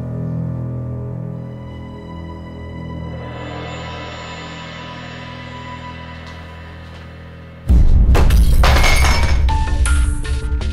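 A loud, sudden shatter of something breaking in a drama scene, bursting in near the end over a steady music-like background and ringing out with crashing debris.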